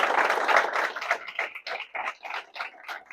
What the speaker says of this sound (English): Give 'em a round of applause.